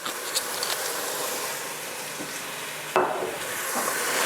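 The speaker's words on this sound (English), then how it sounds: "you want to hear a wild sizzle" A loud, continuous sizzle of wine hitting a hot pan of rice and mushrooms for risotto, crackling and hissing, with a sharper burst near the end as more splashes in.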